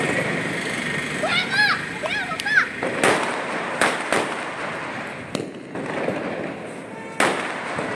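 Fireworks and firecrackers burst during Diwali night celebrations, with sharp separate bangs and crackles, some near and loud, some farther off, plus whistling streaks and voices in the background.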